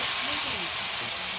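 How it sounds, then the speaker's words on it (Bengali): Water splashed into frying masala of ground onion and tomato for a village-style fish curry, giving a steady close hiss and sizzle that barely varies through the moment. "মশলাতে দিয়ে দিচ্ছি সামান্য একটু জল।"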